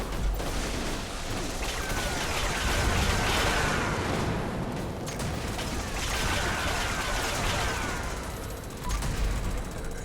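Rapid gunfire from a weapon in the Fallout 76 video game rattles on in dense, loud, continuous bursts for the whole stretch, with only brief dips in intensity.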